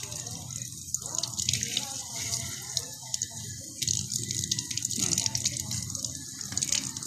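Running tap water splashes steadily over a fish as it is washed in a sink, with dripping and sloshing throughout and a voice giving instructions close by.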